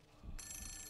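A telephone in the video game The Suffering begins ringing with a bright, sustained electronic ring tone that starts abruptly partway through, fairly close and clear over a low background hum.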